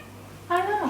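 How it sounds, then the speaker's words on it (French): A short cat meow, clear and close, rising then falling in pitch, heard on its own over a low steady hum in a quiet home. "Miaule."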